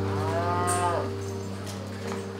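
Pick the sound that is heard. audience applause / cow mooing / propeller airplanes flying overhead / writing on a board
cow mooing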